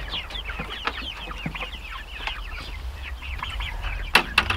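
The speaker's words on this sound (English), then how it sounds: "Oh, it feels good being able to move the chickens on pasture." Chickens on grass pasture cluck and chatter continuously at close range, with overlapping short calls from several birds and a sharper burst near the end.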